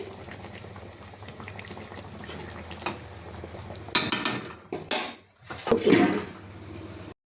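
Dal with coriander leaves bubbles in a pot, a soft simmering burble broken by a few louder clatters of a utensil against the pot near the end.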